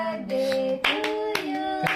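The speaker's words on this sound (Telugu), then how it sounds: "చప్పట్లు కొట్టు" Spaced claps at a nephew's birthday cake celebration, three or so sharp smacks breaking through a continuous tuneful voice or music.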